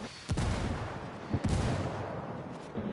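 A grenade blast in the tactical shooter game Ghost War, heard as a few short, muffled booms at close range over a dense, rumbling battlefield bed of gunfire-like noise.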